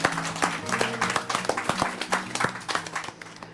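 Applause for a cook on a French kitchen-rescue TV show, a dense patter of hand claps with sharp transient spikes, mixed with background music tones and faint voices, fading slightly toward the end.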